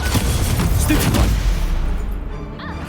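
A Stupefy spell cast in Hogwarts Legacy on PS5, a loud burst with a booming low impact that fades into a softer ringing tail, set among other battle noise.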